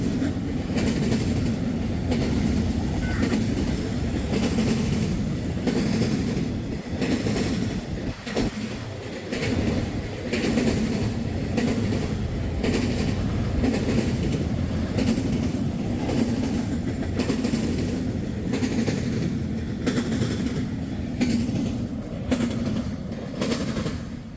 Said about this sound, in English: 120 axles on that train. It's probably a UPS train.